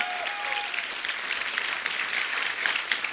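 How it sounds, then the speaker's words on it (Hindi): Studio audience at a comedy talk show bursting into loud, sustained applause, dense and even throughout, with a faint voice briefly over it. "जोरदार तालियां"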